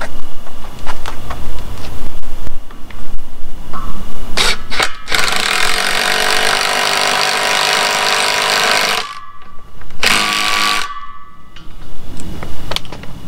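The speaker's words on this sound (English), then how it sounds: "now we're gonna put these lag screws in" Lag screws being driven into a live edge wood bench with a power driver, giving a loud sustained whirring burst that runs for several seconds and stops, with shorter driver bursts and handling clatter around it.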